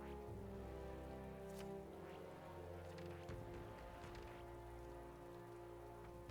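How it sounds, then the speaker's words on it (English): Steady rain falls continuously in a video game, a dense patter of drops on a surface, with a low tonal background hum underneath and no talking. "It's obviously raining."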